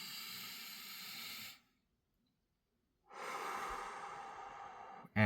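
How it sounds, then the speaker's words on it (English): A slow, deep breath drawn in and let out during a guided calming exercise: two long, soft airy rushes, one inhale and one exhale, separated by a pause of near silence, with a sharper sound at the very end. "Let's take this moment to take another deep breath."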